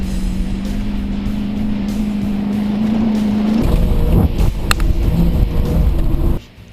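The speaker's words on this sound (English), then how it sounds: "I hear the engine bogging down through the really soft stuff" A Chevy cop car engine bogs down through soft dirt on a track, a steady low drone for several seconds that shifts into a rougher, louder surge with wind buffeting before cutting off abruptly.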